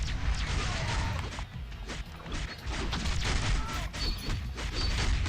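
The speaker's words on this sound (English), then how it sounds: "And explosion!" Loud, dense explosion blasts and crashing impacts rumble and crackle continuously in the mobile action game Marvel Future Fight, a busy chaotic barrage with no clear talk.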